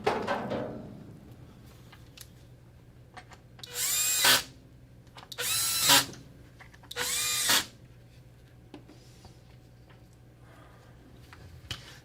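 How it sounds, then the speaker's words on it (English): A power drill whirs in three short bursts, each about a second long, with quiet pauses between them. "you can use a drill to speed up this process"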